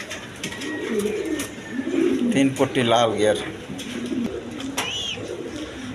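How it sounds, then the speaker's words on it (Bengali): Soft, throaty Lalgiri pigeon coos roll on steadily nearby while someone speaks over them. "একদম কোয়ালিটি সম্পন্ন কবুতর"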